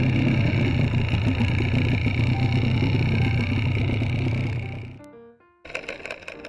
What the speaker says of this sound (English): Here we have the constant boat noise.